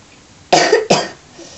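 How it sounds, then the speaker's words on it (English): Two quick, harsh coughs from a man, close and loud, the second following the first after a short pause. "I still got a bloody cough."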